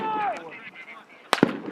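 Marines fire weapons in a training exercise, giving fire support to another squad: a couple of sharp, nearby gunshot cracks in quick succession after a stretch of quieter background noise.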